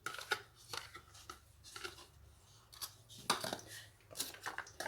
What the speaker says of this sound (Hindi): अब मैं काट लूँगी।